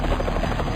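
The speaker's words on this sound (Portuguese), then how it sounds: "Ele é levado a salvo pelo helicóptero." A rescue helicopter during the Montserrat volcanic eruption, a loud close droning rotor and engine roar, steady throughout the brief moment.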